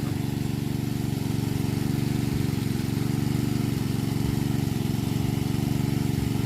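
An engine-driven water pump runs in a rice field, a steady, close, droning engine hum at an even idle that holds without change throughout, with no voices over it.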